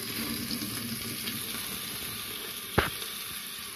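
Beef ribs sizzle steadily in a pan with a little olive oil, a constant crackling frying hiss throughout with one sharp clack near the end.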